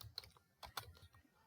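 Keyboard typing on a computer while entering a Python database command, a short run of quiet, close, irregular key clicks with several sharper taps and no talk.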